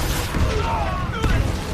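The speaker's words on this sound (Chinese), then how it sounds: "当大反击的火箭炮摧枯拉朽地轰炸在敌人的阵地上时" Katyusha rocket launchers fire a barrage during a war-movie battle scene: a dense, continuous roar of booms and rumble, loud and close, with a voice talking over it.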